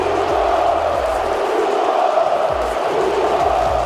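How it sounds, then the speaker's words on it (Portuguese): Flamengo supporters chant in the stands at the Maracanã during a match against Corinthians, a dense, steady roar of many voices that fills the whole stretch without a break. "Grito diferente ecoou nas arquibancadas do Maracanã."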